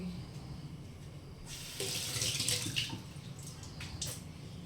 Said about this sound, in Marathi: कढीपत्ता धुवून घेतलेला आहे